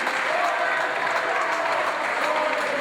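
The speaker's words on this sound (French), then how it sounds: "applaudis par les Lyonnais" Spectators in a French handisport match applaud the young winning team after a 9-4 final score, a dense, steady wash of clapping from a large crowd that holds at an even level throughout, with no talk over it.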